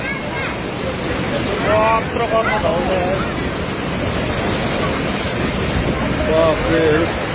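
Flooded Kankai River in Jhapa, Nepal, with rushing water making a steady, broad roar throughout while people talk over it.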